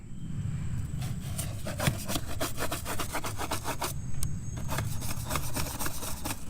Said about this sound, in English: And then a stiff scrub brush, and we're going to see how clean we can get this.